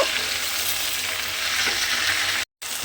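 Spinach and coriander leaves cooking in a pan give a continuous, even frying hiss up close, with faint stirring, a brief dropout near the end and no talk.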